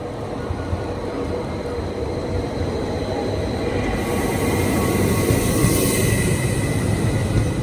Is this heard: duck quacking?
no